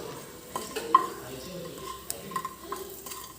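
A spatula scrapes and taps against a pan as spice powder is stirred and dry roasted for mango pickle, with faint crackling and a few light clinks.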